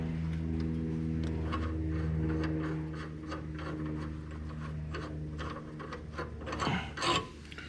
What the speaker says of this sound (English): first we're going to have to remove these bolts, 15 millimeter wrench and socket.